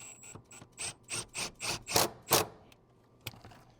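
A socket ratchet clicking in short repeated strokes while securing a seat bracket to a Toyota Tacoma or 4Runner body, a series of close, crisp ratcheting bursts with a pause before a final click.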